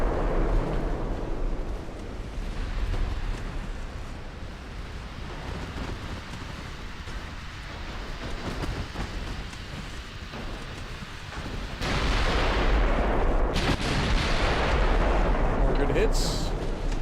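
Naval gunfire and heavy shell hits on a heavy cruiser in the Ultimate Admiral Dreadnoughts warship game, a sustained roaring rumble of explosions that swells louder toward the end.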